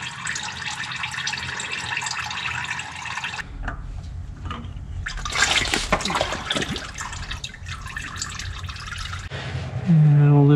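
Fluid drains steadily from a small spout on a 100 Series Land Cruiser during a fluids change, a continuous close splashing trickle that briefly grows busier midway and ends with a low thump.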